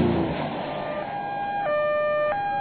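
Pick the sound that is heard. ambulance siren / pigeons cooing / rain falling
ambulance siren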